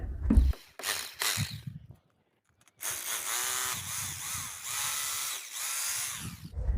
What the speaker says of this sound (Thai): ไม้อัดตัวเนี้ย นะครับเราเจาะยึดกับคานไว้